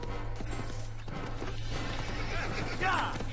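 A horse in the Assassin's Creed video game neighs and whinnies with clip-clopping hooves, set against a steady game music bed while someone talks over it.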